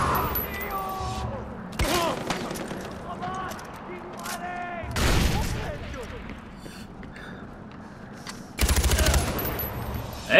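Bursts of automatic gunfire in the Far Cry 4 video game crack out in short volleys and single shots, loud and close, broken by gaps of quieter game ambience with voices talking in between.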